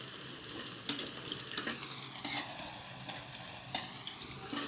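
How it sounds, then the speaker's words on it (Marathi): Garlic stir-fried in a pan until it turns red, with a soft continuous sizzle broken by several sharp scraping strokes of a spatula at uneven intervals, heard close and fairly quiet. "लसूण पण चांगला असं लाल होईपर्यंत चांगला परतून घ्यायचं।"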